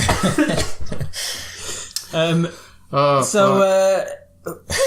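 A person hiccups or burps several times in quick succession amid lively conversation, the short voiced bursts standing out near and loud between stretches of speech.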